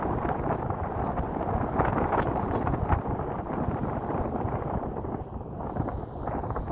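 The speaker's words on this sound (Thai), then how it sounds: "ได้ยินแต่เสียงอันลมพัด" Strong wind buffets the microphone at a hilltop Buddhist temple, a loud, continuous, gusty rumble with no voices.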